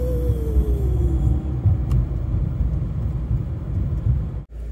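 A car cruising on the road on the way to a hardware store, a steady low engine and road rumble throughout with a faint fading whine early on, close and continuous.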